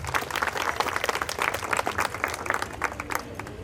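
An audience claps in a dense, steady burst of applause at a Navratri garba festival in a residential society. The applause is moderately distant and lasts a few seconds.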